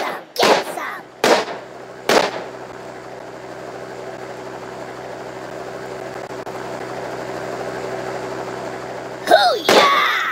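Sharp gunshots in a video game: three loud cracks in quick succession near the start, a long quieter stretch with a low hum, then two more bursts at the end.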